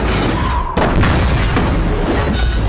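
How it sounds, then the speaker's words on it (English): Train wreck crash in the video game Uncharted 2: Among Thieves: a heavy, booming impact hits after a brief muffled lull, then rumbling debris and crunching metal roll on loudly. "that explains the train wreck, the huge train wreck from the prologue"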